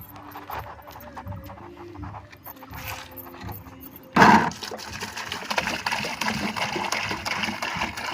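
A potted kalanchoe plant plunged into water to wash ants off its roots: after a quiet stretch comes a sudden loud splash, then a steady rush of sloshing, bubbling water that lasts to the end.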